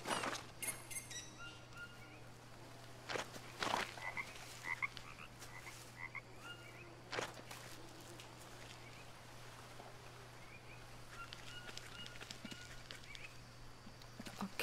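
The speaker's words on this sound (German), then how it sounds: "Da ist ein Frosch." Frogs croaking in the jungle survival video game Green Hell, repeated short raspy calls scattered over a constant background hum, some close and sharp, others softer, with no talking.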